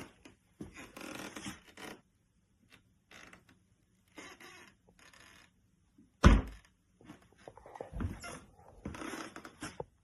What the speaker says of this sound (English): That squeaking is not the bench. That's my wooden floor.